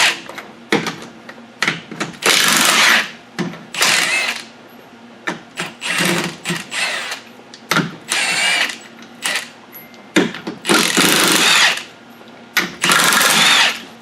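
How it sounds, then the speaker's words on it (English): A plasma cutter slices through rusted parts on an old Buick up on a hoist, loud harsh hissing bursts of a few seconds each, separated by short quiet gaps and clicks, close by and without talk. "probably just going to use the plasma cutter and cut it all off."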